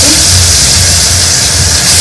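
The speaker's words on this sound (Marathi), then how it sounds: "तर आता चिमणी लावली कारण खूप वास येतो" A kitchen chimney exhaust hood runs loud and close, a steady broadband whoosh with a low motor drone that holds constant throughout without pause.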